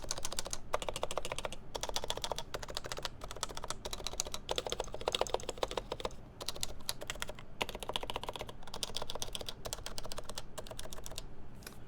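An HHKB Professional Hybrid keyboard is typed on quickly and steadily, with dense bursts of close, crisp keystrokes carrying a loose, rattly upstroke and brief pauses between runs.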